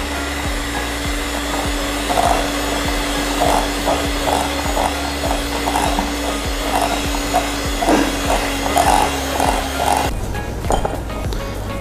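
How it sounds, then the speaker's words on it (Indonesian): Electric mixer churning chocolate dough with cocoa and chopped almonds, a steady motor whine with rhythmic ratcheting clicks of the beaters through the thick mix, continuous and close, with the tone changing near the end. "Mixer lagi sampai semua tercampur rata."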